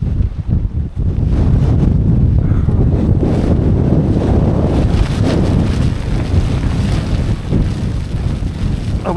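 Sub-zero winter wind and snow blast against a Nortent Vern 1 solo tent, a loud, continuous roaring buffet with heavy low rumble and gusty flapping that never lets up, with no voices.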